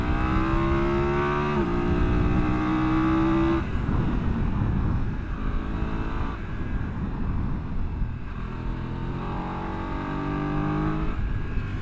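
BMW F900GS Adventure motorcycle engine revving hard and loud with rising pitch, then quick-shifter upshifts at about 1.7 and 3.6 seconds drop the note before it climbs again, continuous close engine roar with no talking.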